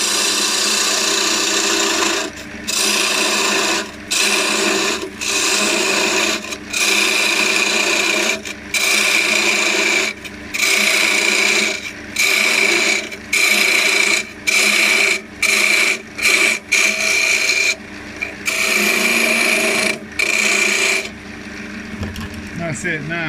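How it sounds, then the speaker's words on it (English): A skew chisel makes peeling cuts on a small wooden Christmas decoration spinning on a lathe, a loud, steady rasping hiss that starts and stops in repeated short passes over a continuous motor hum. "we're going to use the skew chisel to make peeling cuts and basically just get the rough length and shape"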